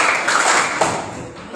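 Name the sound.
group clapping four times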